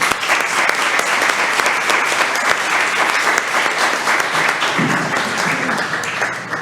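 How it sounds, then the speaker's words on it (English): Audience applause at a Waxahachie ISD school board meeting, a steady dense clapping that holds evenly for several seconds and tapers slightly at the end. "let's go ahead and give them a round of applause."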